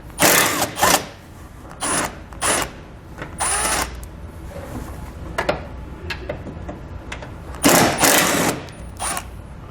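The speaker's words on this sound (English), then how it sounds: "So we'll grab a 12mm socket and pull both of those bolts out." Bolts on a 2012 Toyota Venza frame being removed with a 12mm socket while fitting a Curt trailer hitch receiver: bursts of ratcheting and whirring at intervals, close and fairly loud, with quieter clicks between.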